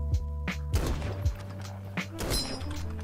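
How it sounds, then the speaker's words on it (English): Call of Duty gunfire with the headshot ping: a handful of sharp gunshots and thumping impacts in irregular bursts over a low steady game hum, with a brief bright metallic ring near the end. "Every time you hear a ping sound, that's because it's a headshot."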